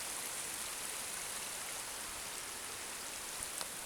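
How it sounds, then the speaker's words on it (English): A small river flows along a castle path on the Isle of Arran, a steady, broad rushing hiss heard close and constant, with no voices. "A lovely little river."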